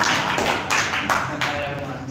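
Brief applause at a village facilitator training session on law and social inclusion: several short bursts of clapping, moderately close, fading between rounds with faint room noise.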